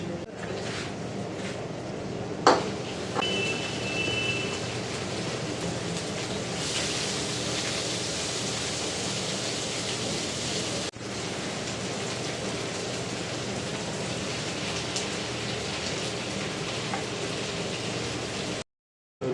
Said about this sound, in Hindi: तो दोस्तों अभी हमारी प्याज गर्म हो रही है।